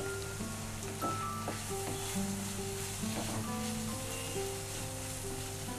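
Onions sizzle in a pan for beetroot curry while being stirred, a steady soft frying hiss with scattered scraping taps of the spoon and faint background hum.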